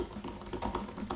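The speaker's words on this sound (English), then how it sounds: "Right now I'm going to tap on my keyboard." Light taps on a computer keyboard, recorded through an eMeet Luna speakerphone, a handful of soft irregular clicks over a short stretch with faint room noise.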